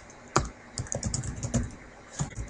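Quick bursts of keystrokes on a computer keyboard, close and clear, with short pauses between clusters as network configuration commands are entered in Packet Tracer.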